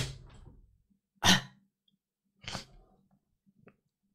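Two sharp sneezes from a single person, close and loud, the first a sudden burst and the second a little softer about a second later, with quiet breathing around them and no talking.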